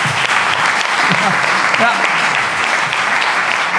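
An audience at a Gezondheidscafé health evening in Venray gives warm applause to welcome the second presenter. The clapping is dense, loud and continuous, and one brief voice is heard over it.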